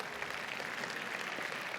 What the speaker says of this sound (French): Et j'aimerais bien que vous l'applaudissiez pour commencer